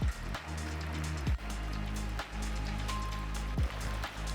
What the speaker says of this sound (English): The wind got stronger and the rain got even heavier as the night went on.